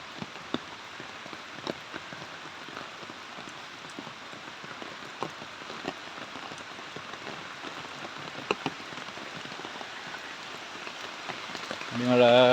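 Heavy rain pours steadily onto a small stream, a dense even hiss with scattered louder drops, while a voice speaks briefly near the end.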